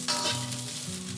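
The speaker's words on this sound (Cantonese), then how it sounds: "爆少少洋葱落去" Onions sizzle and fry in a wok on low heat for a Cantonese soy sauce chow mein, a close, steady hiss with a few light stirring scrapes, no voices.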